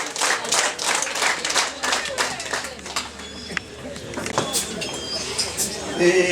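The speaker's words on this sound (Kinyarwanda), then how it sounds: "Amashyi." Wedding reception guests clapping, bursts of applause rising and falling over several seconds, mixed with crowd noise and a voice speaking over it.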